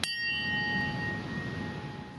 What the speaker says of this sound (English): a bell was tolled